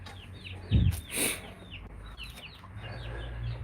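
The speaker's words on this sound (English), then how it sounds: "I've got chickens in this cage." Chickens kept in a cage cluck in short, scattered bursts, with one louder squawk near the start over a low background rumble.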